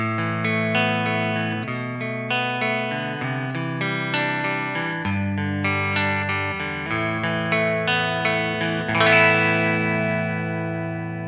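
An Enya NOVA GO SONIC, a Les Paul-style electric guitar with a built-in speaker and effects processor, is played on its clean tone: a continuous run of picked single notes and chords, ending with a brighter strummed chord that rings out.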